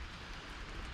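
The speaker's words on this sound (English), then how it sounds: "As you can see, it is raining." Steady rain falls outdoors during a two-day downpour, a soft, even hiss of drops with no breaks and no voices.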